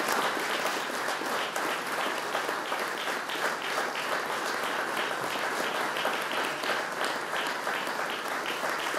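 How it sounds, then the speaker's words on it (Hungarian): Sustained applause fills a charity ball hall as Katán is honored, a dense, even wash of many hands clapping without pause for the full stretch. "kérnék egy tapsot Katánért"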